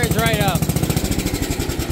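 An old Gilson garden tractor engine catches after 2.5 years stored under a shelf and settles into a loud, close, steady rapid chugging beat, with a starter-like whine fading in the first half second.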